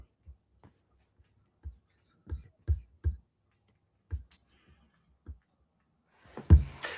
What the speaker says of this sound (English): there's a lot more like loud typing and desk scraping coming through than there has been on previous sessions